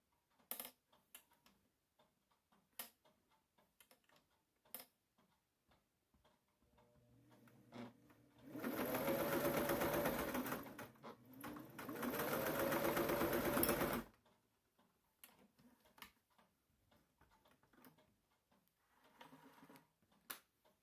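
A vintage sewing machine stitching light, silk-like woven fabric: scattered ticks and clicks, then two loud, sustained bursts of rapid whirring stitching separated by a brief pause, followed by more quiet mechanical clicking.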